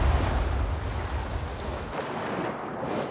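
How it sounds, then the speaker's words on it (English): Ocean surf washes steadily as a soft background layer, a broad continuous rush of breaking waves with wind-like hiss and no voices. "I have some ocean waves kind of in the background"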